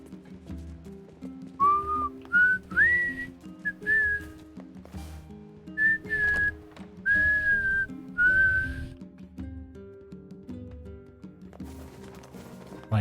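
Someone whistles a tune slightly out of tune over game background music, a series of short sustained whistled phrases with pauses between them.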